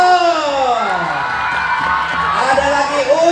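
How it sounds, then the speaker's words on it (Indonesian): A lively audience at an Indonesian comedic sermon event cheers and whoops loudly, with rising and falling shouted voices over a dense crowd noise throughout. "Tepuk tangan buat Tulang Togu"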